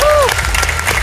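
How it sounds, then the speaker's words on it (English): A brief burst of crowd applause at the Insomnia gaming festival in Ireland, dense and close, with a short whistle-like tone at the start and voices mixed in. "one more round of applause, please, for everybody involved"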